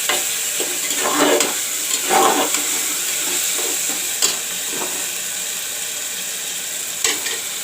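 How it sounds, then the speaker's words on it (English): Tomato and onions frying in a pan for masoor dal, a steady close sizzle broken by several bursts of stirring and scraping, with no talk. "you can see the tomato also is fried up along with the onions"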